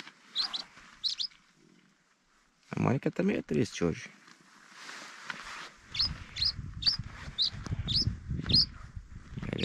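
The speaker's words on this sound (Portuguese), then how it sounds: "Só passarinho cantando." Small birds chirp and tweet in short repeated bursts, fairly close, near a lake. A person speaks briefly partway through, and a low rustling runs beneath the birdsong.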